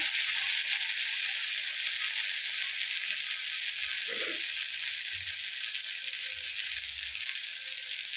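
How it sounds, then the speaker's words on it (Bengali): Bengali dim kosha spice mixture frying in a pan: a steady, bright sizzle that holds throughout, with a few soft stirring knocks and scrapes underneath and no talking. "এবার এটাকে ভালো করে কষবো।"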